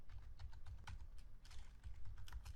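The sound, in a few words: typing code on a computer keyboard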